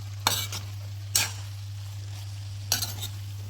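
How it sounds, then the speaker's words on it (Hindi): Hakka noodles are tossed and mixed in a pan with two spoons, making three bursts of clinking and scraping over a steady low hum, with no talking. "इस तरह से डालते जाएंगे और मिक्स करते जाएंगे।"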